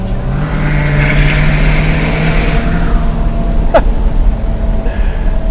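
Ford F-250 MegaRaptor truck with a diesel engine that rolls coal: a loud, close, steady low engine drone with a rising rev midway, heard without talk.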